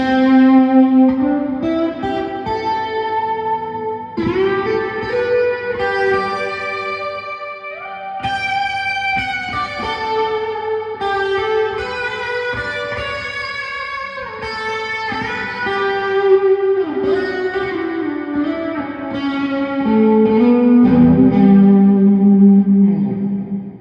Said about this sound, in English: Let's go with the decay all the way up and have a long reverb.